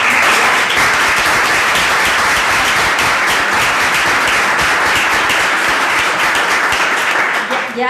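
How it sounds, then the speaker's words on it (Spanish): Sustained audience applause for a guest author at a literary tasting session in a library, dense and loud clapping from a full room holding steady for several seconds before easing off at the end. "Un aplauso para ella, por favor"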